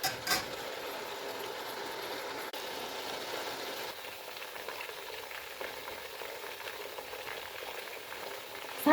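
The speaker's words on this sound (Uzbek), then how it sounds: "Piyozimiz tillo rangi kirguncha qovurilsin." Onions sizzling in hot oil over a medium gas flame, cooking toward golden for Samarkand plov with quince; a steady, close frying hiss with occasional crackles and stirring scrapes throughout.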